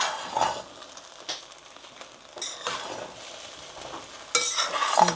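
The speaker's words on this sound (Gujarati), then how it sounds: "ફરી વાર સાબુદાણા ખીચડી શેક કરી લઈએ." Sabudana khichdi is stirred and roasted in a pan over low heat, with soft sizzling and a few spatula scrapes and clinks against the metal, close and fairly quiet.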